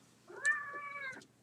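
A single cat meow, close and clear, rising then holding a drawn-out tonal cry for nearly a second before cutting off, alone against near silence.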